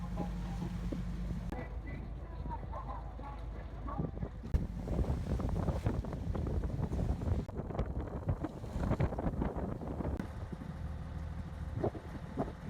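Atlantic Ocean waves and wind heard from a small boat near the breakwater of the port at Mar del Plata, a steady rushing wash with gusty wind buffeting the microphone and no clear talk.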